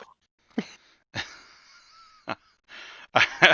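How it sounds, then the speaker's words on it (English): A person snores in a few wheezy, rasping bursts separated by silence, each breath rough and hissy, with the last ones loudest and closest. "I could hear him snoring."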